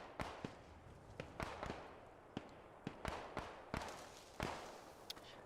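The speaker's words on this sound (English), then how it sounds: "We've got a volley of fire going on from the Allies right now" Scattered gunshots in the World War II shooter Post Scriptum, sharp cracks popping irregularly at mid distance over a low battlefield ambience, a dozen or so shots spread across a few seconds.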